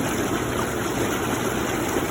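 An Intex PureSpa Slate Series inflatable hot tub runs its bubble jets, giving a loud, steady rushing and churning of water that holds level throughout with no voices.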